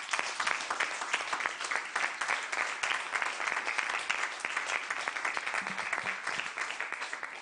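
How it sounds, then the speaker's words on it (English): An audience at a Kenya National Commission on Human Rights event applauds a speaker's dedication, with continuous, dense clapping from a sizable crowd holding steady the whole time. "A better round of applause one more time for the gentleman Robert Omondi for that beautiful dedication to his friend."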